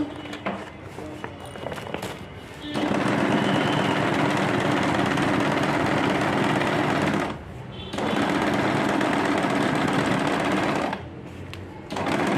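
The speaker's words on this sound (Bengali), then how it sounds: "এই জায়গাটাতে আমি একটু ডাবল সেলাই দেবো কারণ ছিঁড়ে খুলে যাবে" Sewing machine double-stitching a fabric bag, running in long, loud, close, steady buzzing bursts that stop briefly between runs.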